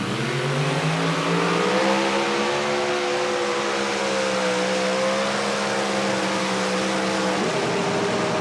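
A super modified pulling tractor engine roars at a loud, steady, sustained pitch at a night tractor pull at Darana Motorsports Park in Dunn, North Carolina, holding its revs throughout and dipping slightly near the end.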